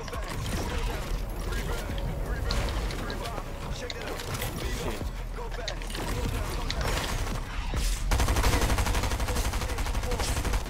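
Gunfire in a Fortnite match, with dense, continuous bursts of shots and mechanical clatter running under players talking throughout, growing slightly louder near the end.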